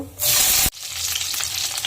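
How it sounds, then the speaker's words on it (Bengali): Eggplant pieces dropped into hot oil with dried red chillies and nigella seeds, giving a sudden loud burst of sizzling that cuts off abruptly, then a steady, bright frying hiss continuing close by. "বেগুনগুলো ছেড়ে দেবো, এক এক করে ভেজে নেব"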